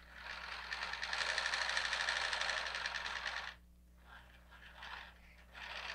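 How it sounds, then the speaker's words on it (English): A serger stitches diaper fabric with its blade removed, giving a loud, steady, rapid mechanical buzz for about three and a half seconds before stopping, followed by quieter handling noise. "This is serging without a blade."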